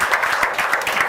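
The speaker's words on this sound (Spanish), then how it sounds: "Démosle un fuerte aplauso a la palabra de Dios." A church congregation gives a short burst of strong applause during a service. Rhythmic, fairly loud clapping lasts about a second.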